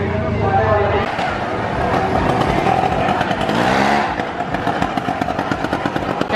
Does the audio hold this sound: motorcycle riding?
yes